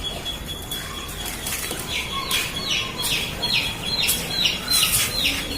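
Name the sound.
pigeons flapping wings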